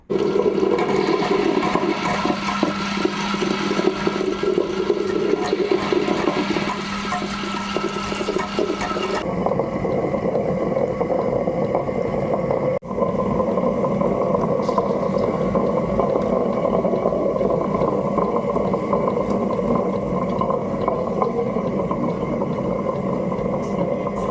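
A wet grinder runs loudly and continuously as it grinds soaked urad dal into batter for black kavuni rice idli, making a steady watery churning roar with a sudden change in tone partway through.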